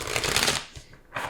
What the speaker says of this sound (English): I want to shuffle these a little longer than I usually do.